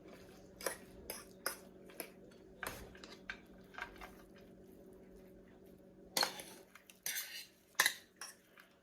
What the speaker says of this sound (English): Spoon it out evenly over the baking dish.